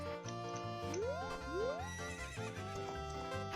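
A horse neighs twice in quick succession in The Legend of Zelda: Ocarina of Time, rising whinnies over looping ranch music and faint hoofbeats.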